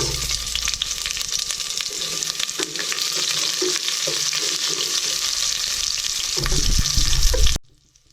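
Onion fries with garlic in a pan, making a loud, continuous sizzle and stir that swells slightly and then cuts off abruptly just before the end.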